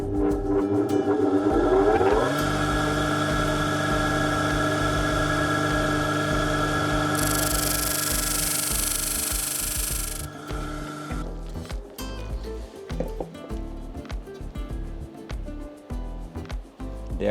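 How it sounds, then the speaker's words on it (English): A disc sander takes a little material off a wooden part for an arcade control panel. A steady motor whine runs for several seconds with a rougher grinding hiss partway through, then winds down into scattered ticks and knocks. "it is an easier way to use the sander, the disc sander, to do that"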